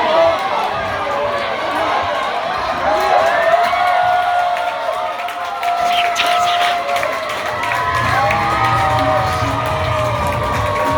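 A college softball crowd at a Rainbow Wāhine home game cheers and shouts after a three-run homer, a sustained mass of voices and whoops throughout, with some children's shouting mixed in.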